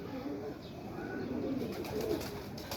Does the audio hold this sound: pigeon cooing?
yes